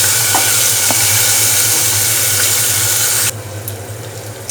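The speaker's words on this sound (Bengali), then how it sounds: "আমি হচ্ছে পেঁয়াজ কুচিগুলো একটু ভালো করে ভেজে নিব" Chopped onions fry steadily in hot oil in a pan, a loud continuous sizzle that drops to a quieter hiss near the end, with no voices.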